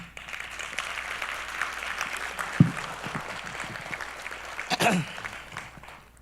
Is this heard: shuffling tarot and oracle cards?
no